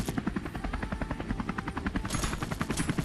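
A steady rotor thump of a helicopter in the game ScarFall 2.0 whirs continuously, its rapid chopping rhythm loud and close, with a brief higher whine midway.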